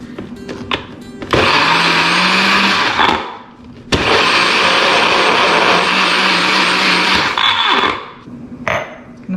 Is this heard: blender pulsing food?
yes